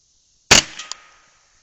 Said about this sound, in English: let me put a couple more rounds in here, and we'll see where we're hitting when we shoot this target